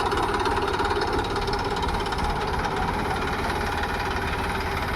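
A tractor engine idles while reversing, with a loud, continuous low rumble and a rapid knocking throb that stays steady throughout.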